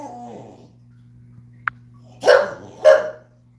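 A dog gives two short, sharp barks close by after a quiet stretch, with a brief click beforehand and a low steady hum underneath in an indoor setting.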